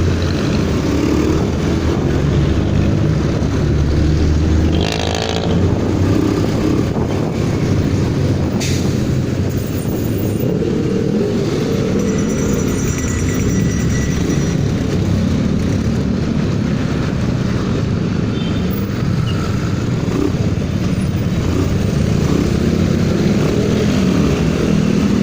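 Continuous loud road traffic on a hot street in Bacoor, with vehicles rumbling past steadily and no pauses, a dense broadband roar throughout.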